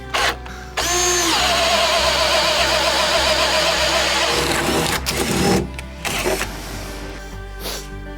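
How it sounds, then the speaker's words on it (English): A power drill with a self-feeding auger bit bores through wood in a basement, a loud, steady whine for several seconds that then spins down, followed by short bursts of drilling. "Using this self-feeding auger bit."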